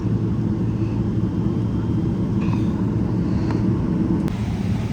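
An Emirates Boeing airliner slowing after touchdown makes a constant deep rumble of engines and rolling noise, heard from inside the cabin, with a few faint clicks over the drone and no talk.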